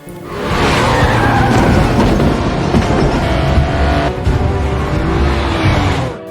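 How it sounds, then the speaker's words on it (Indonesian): A car chase from Fast & Furious 9 roars loud and close, engines revving over sustained tire skids and squeals lasting several seconds before cutting off abruptly. "Dom pun terus mengejarnya hingga Jacob kabur dengan mobil yang ia begal di jalan"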